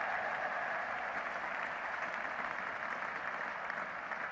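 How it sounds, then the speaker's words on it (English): A cricket crowd at a 1975 England Ashes Test applauds a boundary four with steady, distant, sustained clapping. The sound is a broad, even wash that holds throughout, with no voices over it. "So something at last for the English supporters to cheer and clap about."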